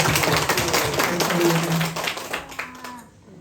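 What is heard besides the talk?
congregation applauding in church on Easter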